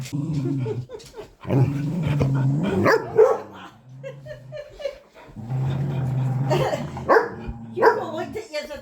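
Dogs bark, growl and whine excitedly at close range indoors, with loud sustained vocalizing that rises and falls across the whole stretch.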